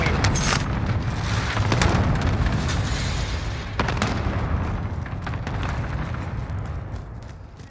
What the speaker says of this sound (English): Enemy cluster strike. Watch your heads.